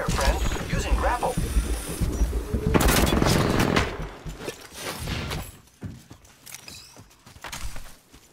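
Rapid gunfire in Apex Legends during a battle royale match, bursts of automatic shots rattling loudly in the first half, then scattered fainter shots and game effects.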